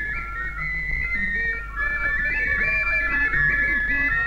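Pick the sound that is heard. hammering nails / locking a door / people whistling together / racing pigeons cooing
people whistling together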